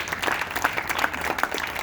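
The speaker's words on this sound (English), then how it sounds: "So give yourselves a round of applause" A brief burst of applause from a crowd at a League of Women Voters centennial party: close, dense clapping that holds steady throughout.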